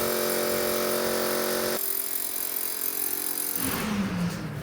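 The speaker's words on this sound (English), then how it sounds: "I'm going to drill a hole here to see if the footing does run through" A power drill bores a test hole down through a concrete footing during a radon mitigation install, a loud continuous grinding rattle that shifts in pitch and intensity partway through.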